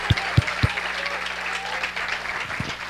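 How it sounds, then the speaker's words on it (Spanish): A church congregation claps together, a steady wash of applause with a few heavy low thumps near the start, loud and close throughout. "Sí, todos aplaudémoslo."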